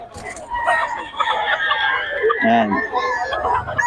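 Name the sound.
chickens, roosters crowing and clucking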